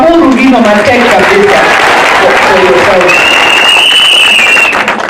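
Crowd applause from an audience at a public forum, loud and continuous throughout, with a voice speaking over it and a sustained tone near the end.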